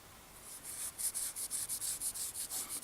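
A Farmall tractor power steering shaft is scrubbed with Scotch-Brite in quick, regular back-and-forth strokes, a soft rhythmic rasping heard close and fairly quiet.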